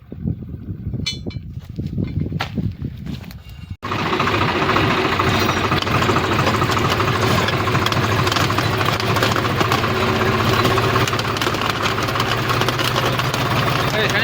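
Tractor engine idling with a steady, loud diesel rumble and knocking, after a few seconds of quieter clattering at the start.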